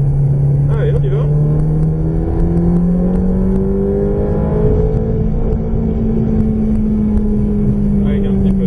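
A Ferrari F430 accelerates on a race track, its engine note climbing steadily and smoothly as the throttle opens, loud and close from inside the car, with a French-speaking instructor talking over it.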